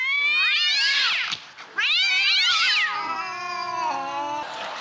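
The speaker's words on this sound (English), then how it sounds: "That was cats boxing, I think." Cats yowl and caterwaul in a fight, rising and falling in long, loud, wavering howls close by, with a short break before a lower, drawn-out growling wail.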